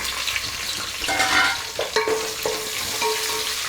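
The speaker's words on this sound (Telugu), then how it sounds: "తాలింపు వేగిన తర్వాత ఇందులో ఈ ఆనియన్ వేసేద్దాం." Loud sizzling hiss as onions hit hot tempering oil for sambar, with a few scrapes and clinks of stirring in the pan.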